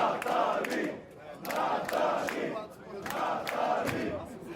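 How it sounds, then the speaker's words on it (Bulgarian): At a live professional wrestling event in Bulgaria, a large arena crowd chants in rhythmic unison for English champion Natalie Sykes, with three loud, swelling chant phrases in a steady repeating cadence. "Публиката си разбира задачата. Скандира за Натали."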